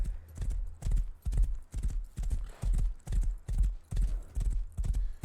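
Black stallion in the World of Warcraft video game, its hooves clip-clopping in a steady, loud, close rhythm of paired beats, with a brief neigh folded in.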